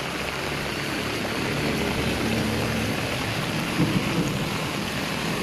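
Sudden heavy rain with thunder during a stormy turn of weather in Masbate: a dense, constant roar of rainfall with low rumbling thunder swelling underneath, loud and continuous without speech.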